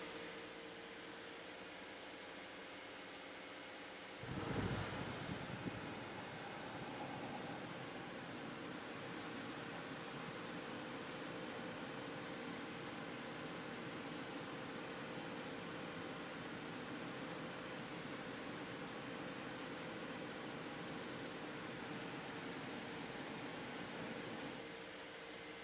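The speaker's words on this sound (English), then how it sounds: "and turn the air conditioner on" A car's air conditioner blower and fan run during a battery test, a steady broadband whoosh that surges as it switches on about five seconds in, then holds an even, moderate drone with a faint hum.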